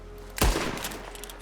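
Gunfire in a video game: a single sharp shot followed by a short rattling burst, moderately loud over a steady low hum.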